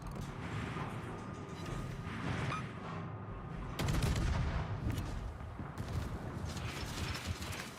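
Naval guns firing in the World of Warships video game: a dense, continuous rumble of distant-sounding gunfire and explosions with sharper salvos breaking through, steady and busy throughout, with no voices over it.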